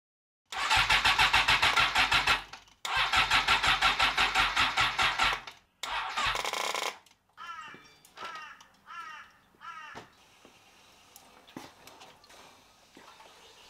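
A motorbike starter cranks over on a flat battery in two long labouring bursts, then several shorter, weaker tries. Crows caw nearby once the cranking stops.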